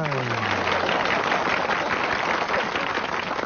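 Applause in a scene from the Hindi film Himmatwala, a dense steady wash of clapping from a crowd throughout, with a brief voice at the very start.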